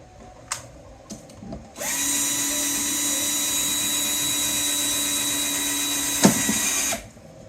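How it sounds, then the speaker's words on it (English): A power drill drives a long bolt through a front hole during product assembly. A few faint clicks come first, then a loud, close, steady whine holds for about five seconds with one brief surge near the end before it cuts off abruptly. "Now take one of your longer bolts and you're going to drive that through this front hole."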